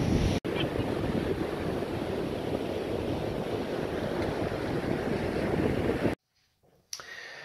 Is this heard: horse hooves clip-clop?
no